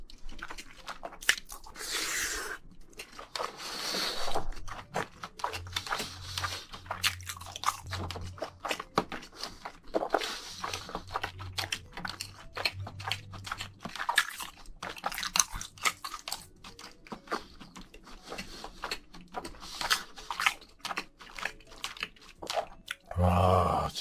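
Spam with black bean noodles and spring onions eaten in a close-miked mukbang, with steady wet chewing, soft crunches and slurpy squishes repeating throughout, loud and intimate with no talking.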